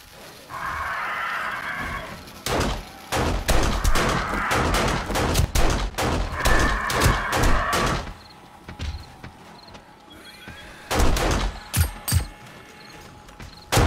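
Automated gun turrets fire bursts of rapid shots at a zombie horde in the game 7 Days to Die, loud and close. The clattering volleys come in several runs, mixed with mechanical ratcheting and clanking and a few isolated single shots.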